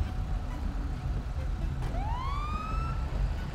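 An ambulance siren in GTA 5 rises in a sweeping wail over a steady rumble of traffic and engine noise, with no talking.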